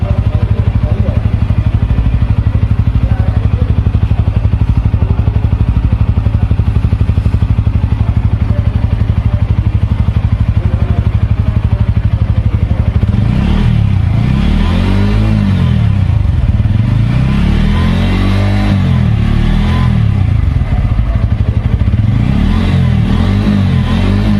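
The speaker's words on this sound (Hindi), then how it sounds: "अब आप इस बाइक के इंजन का साउंड सुनिए और इसका एग्जॉस्ट नोट भी सुनिए" A TVS Apache 160 4V or Bajaj Pulsar N160 motorcycle engine idles with a steady low exhaust rumble, then revs up repeatedly in rising and falling bursts, loud and close.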